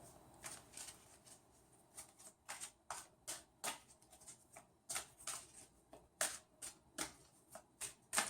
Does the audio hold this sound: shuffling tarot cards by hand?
yes